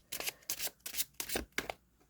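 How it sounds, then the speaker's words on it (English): A secondhand Good Karma tarot deck is shuffled by hand, close up and quiet, with about five brisk, papery bursts in a steady rhythm. "Yeah, they shuffle nicely."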